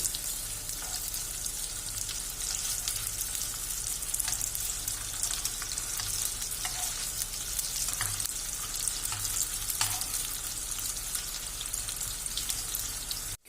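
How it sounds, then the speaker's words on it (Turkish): Continuous oily sizzling and crackling of meatballs frying lightly in a pot, bright and steady, with a few soft clicks and a low hum underneath. "Çok fazla kızartmıyoruz. Hafif renk alması yeterli."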